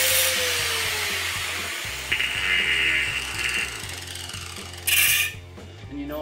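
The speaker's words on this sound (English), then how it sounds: "Right angle grinder and go ahead and just notch both sides" A right angle grinder notches both sides of a steel go-kart steering part, a steady high whining grind with shifting pitch and a brief louder burst near the end, running close and continuous without talk.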